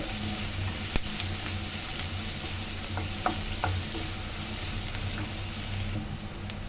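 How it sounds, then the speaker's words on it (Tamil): A steady, close sizzle of onions frying in a pan, with a few light scrapes and clicks of stirring over the constant hiss. "நல்லா வதங்கக்கூடாது வெங்காயம். ஒரு செகண்ட் வதங்கினா போதுங்க."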